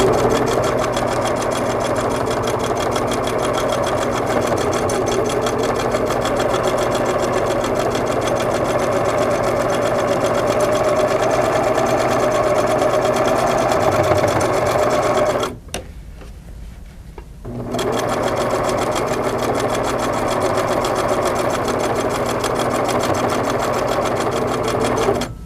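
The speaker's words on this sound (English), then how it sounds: "As you continue sewing and getting farther into the center of the quilt" A Singer sewing machine stitches through a quilt, running steadily and loudly in a continuous whir, stopping for about two seconds before starting up again.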